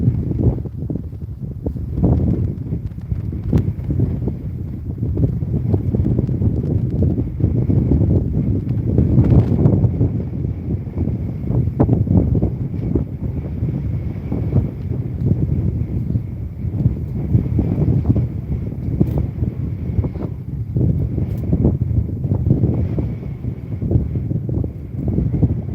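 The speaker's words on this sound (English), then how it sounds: "very, very blustery today" Strong, blustery wind buffets outdoors during cold-weather fishing, rumbling and gusting steadily across the microphone throughout with intermittent knocks and rustles, and no talk.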